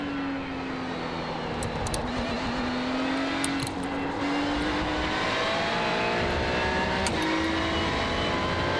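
Ferrari 296 GT3 race car at Interlagos in iRacing, its engine note droning steadily and rising in pitch through the gears as it accelerates, loud and close, with brief clicks of shifts along the way.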